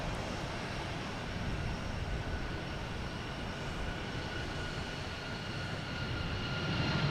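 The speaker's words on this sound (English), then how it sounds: "You got United taking off to LAX. Flight 353 at 737, MAX 9." A United Boeing 737 MAX 9 bound for LAX takes off from Boston Logan Airport, a distant, steady rumbling roar of jet engines with a broad hiss, holding even and swelling slightly at the end, no voices.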